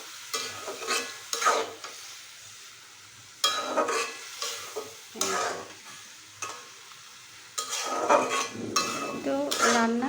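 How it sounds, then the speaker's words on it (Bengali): Small fish cooking in a pot, stirred gently with a utensil: intermittent bursts of clinking and scraping separated by quiet gaps, with a light sizzle under them. "হালকা করে নাড়াচাড়া দিতে হবে, ছোটো মাছ তো, সেজন্য আলতো হাতে নাড়তে হবে।"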